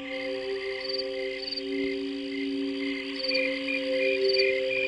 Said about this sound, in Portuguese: Os sons dos grilos são um pouco mais musicais do que os sons dos gafanhotos.